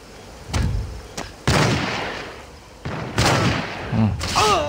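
Sniper gunfire in the mobile shooter Critical Strike CS: several sharp, loud shots at irregular intervals, one after another, with brief game noises in between.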